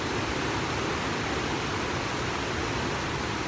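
A waterfall roars as a steady, dense broadband rush, loud and unbroken throughout, with no voices over it, heard on a day trip.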